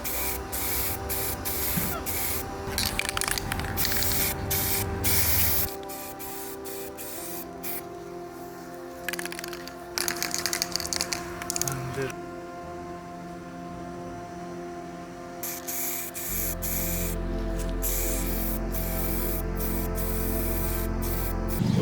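High gloss black spray paint being applied to a car headlight, bursts of hissing aerosol of varying length with short pauses between them, close and steady against a low background hum.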